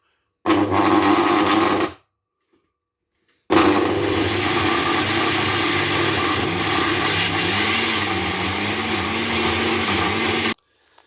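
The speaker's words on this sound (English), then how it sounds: "We're going to operate the blender now, viewers, and get the mixture." An electric blender whirs loudly as it mixes an egg and spinach mixture for a soft scramble, with a short burst, a pause of about a second and a half, then a long, steady run whose pitch wavers slightly before cutting off.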